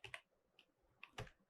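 A short, faint run of keystrokes clicks on a computer keyboard as a web address is entered, a few quick presses then a small cluster near the end.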